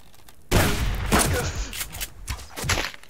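A burst of rifle gunfire in the survival video game Subsistence, with sharp loud shots cracking out in quick succession at close range and a few later reports trailing off.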